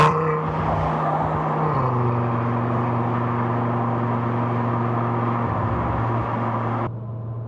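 Audi RS3 fitted with an ECS valved exhaust pulls hard at full throttle in highway traffic, a loud, close engine roar whose pitch climbs, drops at a gear change and climbs again before lifting off near the end.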